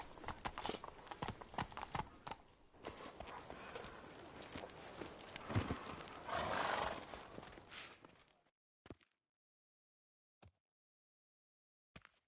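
Roach, the horse in The Witcher 3, trots along with steady, close hoof clip-clops for about eight seconds, then stops. A few isolated thumps follow after a near-silent gap.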